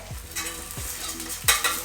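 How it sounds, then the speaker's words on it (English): A British pancake batter sizzles steadily in a hot frying pan, a close hiss broken by a few soft scraping sweeps of a fish slice, with no one talking. "so that's starting to bubble up now"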